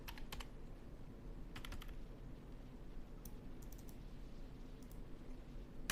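Fingers type quietly on a computer keyboard while an email address is entered, with short bursts of clicking keys separated by brief pauses against a soft background hum.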